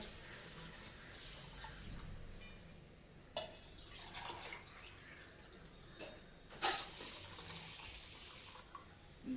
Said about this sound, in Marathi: तर ह्यात आपण 2 ग्लास पाणी वतणार आहे भिजण्यासाठी।